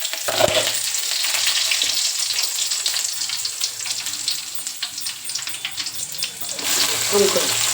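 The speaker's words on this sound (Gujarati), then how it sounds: "તેલ ગરમ થઈ ગયું છે રાઈ તો નાખી દઉં જો" Mustard seeds dropped into hot oil for tempering a bottle gourd and potato pav bhaji, giving a steady close sizzle and crackle with faint water-like hiss throughout.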